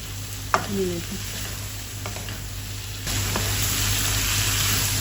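Food is sautéed and stirred in a hot pan, a steady close sizzle with a few scraping stirs near the start, growing louder and denser partway through.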